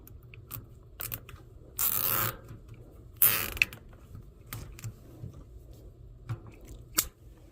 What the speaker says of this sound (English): We will zip tie the rest.